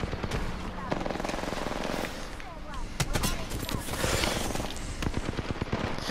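Dense, rapid automatic gunfire from the video game Apex Legends crackles continuously, with sharp individual shots and bursts, while players talk over it.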